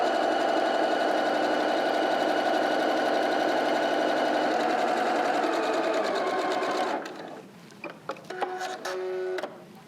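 A sewing machine stitches a fabric face mask with a loud, steady whirring run that stops after about seven seconds, followed by a few short, uneven bursts of stitching.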